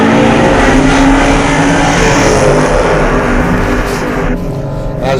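A 2019 Camaro launches on a drag strip with wet tires, a loud, close engine roar that holds for several seconds and eases slightly near the end.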